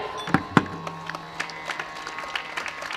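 Scattered audience clapping at a Marathi kirtan, a few sharp loud claps followed by sparse, uneven claps fading in the room, with a faint tone lingering underneath.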